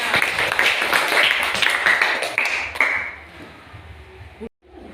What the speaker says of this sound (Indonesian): Tepuk tangan untuk kelompok STA.